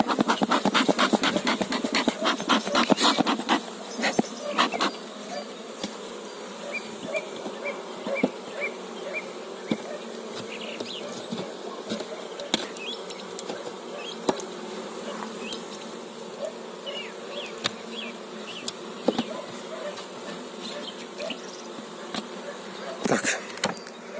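Honey bees at a hive, somewhat aggressive, hum continuously up close, a thick droning swarm with occasional sharper buzzes and light scraping sounds, no talking.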